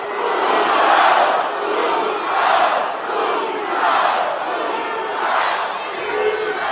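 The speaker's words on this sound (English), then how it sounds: "So the crowd's trying to motivate him." A large wrestling arena crowd chants in a loud rhythmic wave to motivate a wrestler, rising and falling about once per second with no break.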